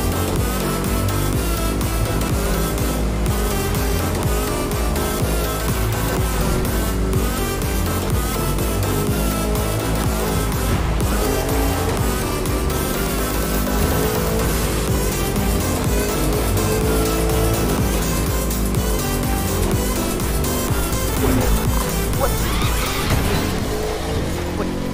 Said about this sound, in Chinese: 既然如此，那就换车，文明驾驶。